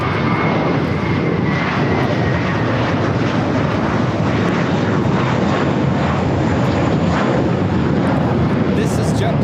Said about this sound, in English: This is JetBlue 188 taking off to Boston on the A321.